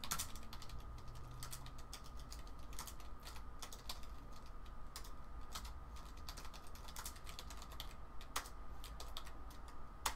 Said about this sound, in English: So I'm typing that